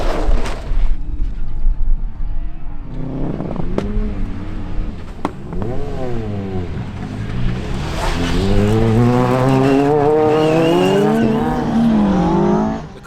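Ford Fiesta R5 rally car racing on a tarmac stage at a hairpin, engine revving hard and rising and falling in pitch as it accelerates, with brief tire squeal, loud and close.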